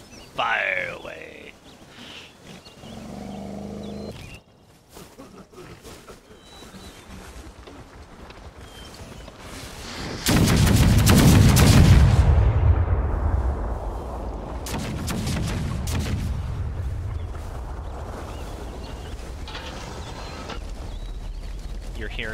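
Gunfire and artillery volleys boom in the video game Empire: Total War, with a massive roaring blast of cannon and musket fire that rumbles on for several seconds after quieter battle noise and voices.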